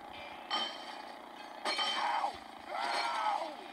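Glass shatters in the Happy Wheels video game, three separate crashes a second or so apart, each a sharp burst followed by tinkling fragments, fairly close and with no voice over them.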